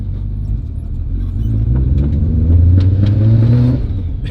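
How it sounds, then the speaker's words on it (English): The Nissan R32 GTR's engine, misfiring, revs in a rough rising rumble that swells toward the middle and then eases off, loud and close, with no talking. "It definitely feels like something's misfiring."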